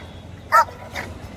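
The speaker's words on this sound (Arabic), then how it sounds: "ما تعضش الكلب الثاني يا غبي." A puppy gives one sharp, high yelp at a Friday street market for puppies, followed by a softer second whimper a moment later over low crowd murmur.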